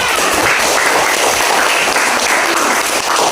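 A classroom of students applauds during a school lesson, dense and loud clapping close by that carries on without a break for several seconds.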